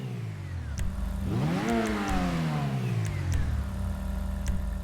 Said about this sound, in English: You'll move through those gears like